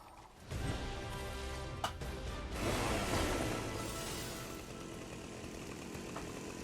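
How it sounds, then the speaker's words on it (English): A chainsaw in the video game Fortnite starts up and then runs with a loud, continuous buzzing whine, with a sharp clack partway through and no talking. "there's one chainsaw here, and I got it"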